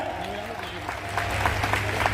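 Audience applause at a groundbreaking ceremony for a Buddhist community temple and library, a steady crackling clatter that swells slightly in the second half, with a voice speaking over it at the start.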